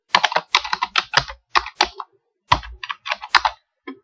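Rapid clattering keystrokes on a computer keyboard come in quick bursts separated by short pauses, close and crisp, with no voices.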